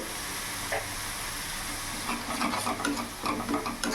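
Ginger, garlic and chili paste fries in a pan for a rohu fish curry, a close, steady sizzle with rhythmic stirring scrapes growing busier in the second half.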